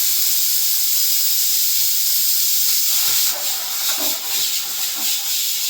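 Water heating in a pot on a kitchen stove, with a steady steamy hiss that grows into faint bubbling and ticking near the end.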